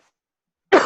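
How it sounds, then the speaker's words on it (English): A single short, muffled cough into an elbow, right up close after a stretch of silence. "So now you cough in your elbow."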